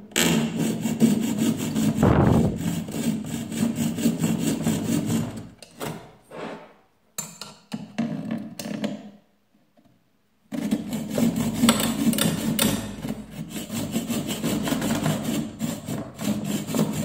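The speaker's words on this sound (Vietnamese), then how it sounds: "Chúng ta sẽ tiến hành cắt mạch các bạn nhé." A hand saw rasps back and forth in rapid strokes through a circuit board, pausing briefly midway before steady sawing resumes, close and loud.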